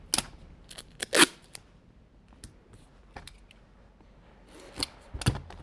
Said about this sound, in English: So I'm going to just cut myself 2 strips of tape.